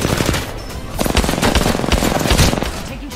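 Gunfire in the Apex Legends battle royale game, a fast rattling automatic burst of evenly spaced shots, loud and close, continuing for the whole stretch.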